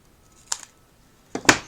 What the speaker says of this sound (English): I'm going to be very brave and just go ahead with my snips today. Just snip off the end